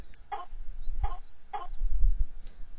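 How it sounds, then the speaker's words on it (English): Ambient chickens in a barn area of the video game The Sims Bustin' Out give three short, evenly spaced clucks alongside a thin gliding whistle-like tone, all fairly faint over a low background rumble, with no talk. "I still hear chickens, but I'm pretty sure that would just be the ambient noises in that general place"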